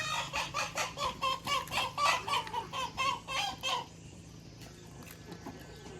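A flock of H'mong native hens clucks in a run of about a dozen rhythmic, close, moderately loud calls. The clucking stops abruptly, leaving faint farmyard background.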